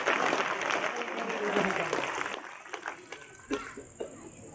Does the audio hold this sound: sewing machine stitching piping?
no